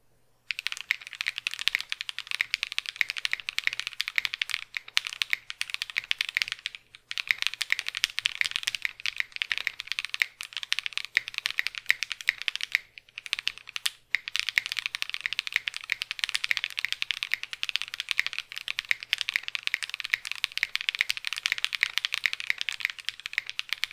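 Rapid, continuous typing on a mechanical keyboard fitted with lubed Cow switches, dense clacky keystrokes heard up close with a few brief pauses and no talking.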